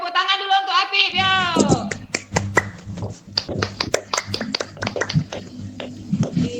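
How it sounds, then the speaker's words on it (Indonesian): A classroom of children claps for a classmate after a teacher's voice, a burst of quick, sharp handclaps close by, loose and uneven in rhythm and thinning toward the end. "Oke, tepuk tangan dulu untuk Apip, yo."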